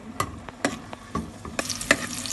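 Gentle frying sizzle of onions in a pan with soft clinks and scraping of a spatula stirring, close up, with no voices.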